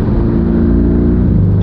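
A Porsche Cayman GTS engine roars close and loud with a steady, thick growl under acceleration, sustained for the whole short burst with no voices.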